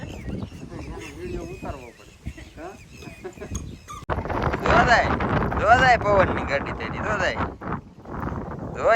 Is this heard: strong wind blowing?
yes